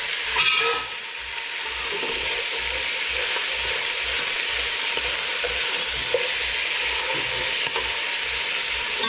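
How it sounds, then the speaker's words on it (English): Crispy meat pieces for pozole verde being lifted off a pan bottom and flipped, a brief scrape and clatter at the start giving way to a long, even, loud sizzle. "I'm going to pull these off the bottom of the pan and flip them over"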